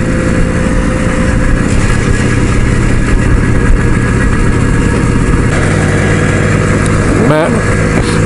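A motorcycle cruises along on a club charity Christmas ride, its engine a loud, steady rumbling drone with wind noise and no break in pace.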